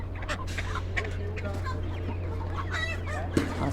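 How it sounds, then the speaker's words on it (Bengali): Broiler chickens at an Italian market cluck and squawk in irregular bursts over a steady low background hum, close and moderately loud, with other market birds mixed in. "আচ্ছা ব্রয়লার মুরগি"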